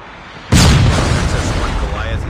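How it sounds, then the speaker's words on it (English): A Predator missile strike explodes in Call of Duty Mobile, a sudden loud boom that swells into a long rumbling roar filling the rest of the moment. "Predator missile inbound."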